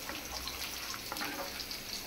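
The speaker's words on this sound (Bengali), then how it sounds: "আগে আমি শিং মাছটাকে কষাই নিতেছি" Shing fish (stinging catfish) sautéed in hot frying oil in a pan, giving a soft, steady sizzle and crackle that carries evenly throughout with no voices.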